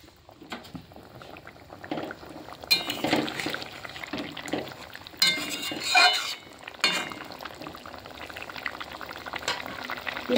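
A milk-based vegetarian curry with fritters simmers in a pan, giving a soft bubbling hiss that runs throughout, with occasional clinks of a utensil against the pan, close and moderate.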